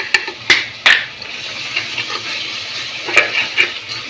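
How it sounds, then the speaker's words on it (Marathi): Half a kilo of chicken with turmeric frying in oil for chicken biryani, a continuous sizzle broken by sharp clinks and scrapes of a spoon stirring against the pot, close and moderately loud. "असं चांगलं त्याला भाजायचं मग आणि तेल सुटूस तर भाजायचं"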